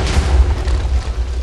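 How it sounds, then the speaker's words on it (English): A deep, loud explosion booms in a Minecraft tournament match, a sustained low roar of blast and rumble with no voices over it. "a giant explosion from Hulk will destroy the tower"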